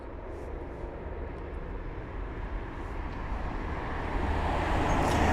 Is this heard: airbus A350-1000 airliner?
yes